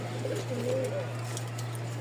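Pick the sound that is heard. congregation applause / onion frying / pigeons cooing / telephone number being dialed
pigeons cooing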